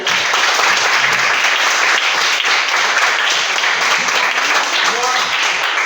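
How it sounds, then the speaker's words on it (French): Dense, steady applause from a school audience for the goalkeepers at a caravan event at an application school, loud and continuous throughout, with a few voices calling out near the end. "applaudissez pour les gardiens"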